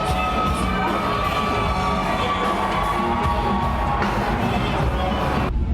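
A downtown street crowd cheers, shouts and calls out woos at a passing Tesla-powered Volkswagen Vanagon, a dense and continuous noise of many voices close by.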